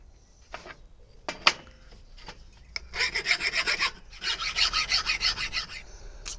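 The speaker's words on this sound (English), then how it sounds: "file off the sharp edges and then mark up for drilling" A few sharp taps and knocks, then two bursts of rhythmic rasping strokes as a file smooths sharp metal edges on a Morse paddle, close and fairly loud.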